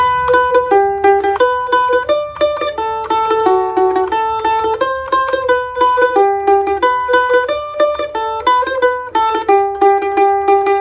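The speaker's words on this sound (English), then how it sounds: "One of the classic tunes for learning the shuffle lick and how to play the mandolin is Skip to Maloo." Solo mandolin plays Skip to My Lou using a steady shuffle-lick picking pattern, repeating bright, close notes throughout as the melody moves up and down over about eleven seconds, with no voices.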